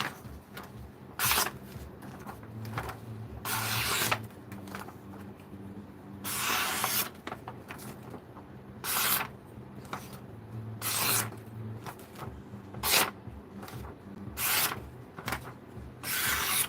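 An S90V steel knife blade is drawn across sharpening stones in repeated gritty strokes, each a loud rasping scrape with pauses between, in an uneven steady rhythm, close and with no voices.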